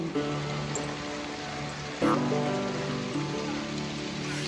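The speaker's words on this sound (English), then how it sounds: "Rain, rain, go away." Rain falling on a surface makes a dense, steady hiss with a low roar underneath, close and continuous, with a brief louder swell partway through and no talking.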